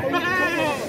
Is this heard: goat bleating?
yes